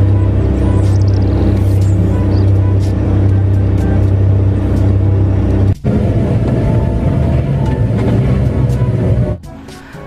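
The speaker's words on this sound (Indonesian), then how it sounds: "yang ini ada mobil truk tambang" A toy mining truck's engine sounds as a loud, low, droning rev with steady rumbling tones, broken by a brief cutout partway through before it resumes and stops near the end, close by and without speech.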